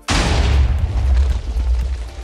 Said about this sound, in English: To begin my little test, I decide to fire 20 shots and collect the results.